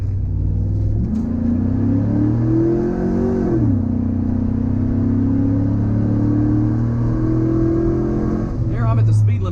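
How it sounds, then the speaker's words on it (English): A Chevrolet SSR pulls onto the highway under hard acceleration, its engine note rising through a gear, dropping at a shift and climbing again, loud and close from inside the cabin while someone talks over it. "But then I can give you a good acceleration test here."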